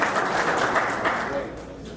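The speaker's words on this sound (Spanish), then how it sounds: "el ingeniero Roa, para quien pedimos un fuerte aplauso" An audience claps loudly for an engineer's birthday during a speech event, a dense roar of clapping that eases slightly toward the end, with speech mixed in.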